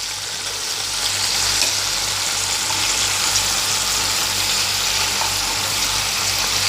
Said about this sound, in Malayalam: മീൻ വറുത്തെടുത്ത് വെച്ചു.